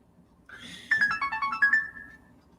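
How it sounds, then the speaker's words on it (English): A mobile phone ringtone plays a short, bright melodic phrase of quick repeated notes, close and clear against a quiet background, then fades out. "That was my phone going off"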